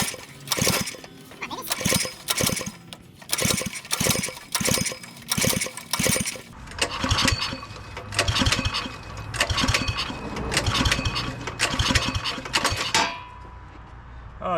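A go kart engine being pull-started sputters through a series of short, rhythmic bursts of cranking, then catches briefly into an uneven, rough running spell before dying away, all close by.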